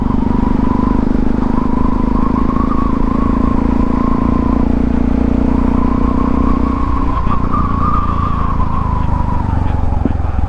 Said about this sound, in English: I didn't know you had an exhaust leak.